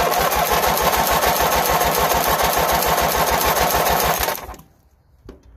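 Small engine on a 2000 Murray 42571x8A 17hp 42-inch lawn tractor running loud and steady with a rapid chugging pulse, then cutting out after about four seconds into near silence.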